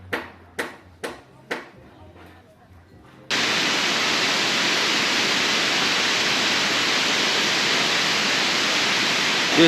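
Waterfall on the Bolaven Plateau in Laos: a few sharp knocks, then a steady, loud, broad roar of falling water that fills the rest of the clip.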